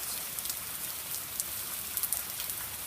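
Steady rain falls on a surface during a December day, a continuous even hiss with scattered louder droplet ticks, fairly close, with no voices.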